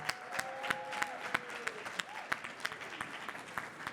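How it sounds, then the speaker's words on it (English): Audience applause at an industry panel event, a quiet, steady patter of many hands with a few sharper nearby claps, heard faintly and evenly throughout. "Let's give a big round of applause for Mr. Al Roker."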